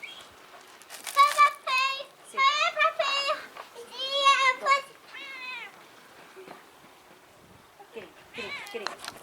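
A house cat meows repeatedly in a series of loud, drawn-out cries, with a few quieter meows near the end, heard in a home where it chases a dog.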